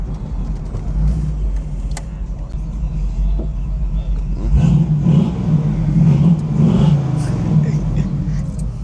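A restored 1967 Chevrolet Camaro convertible's engine revving, a deep, steady rumble close by that swells louder in the second half before settling back.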